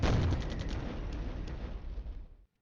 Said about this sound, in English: artillery is bombarding us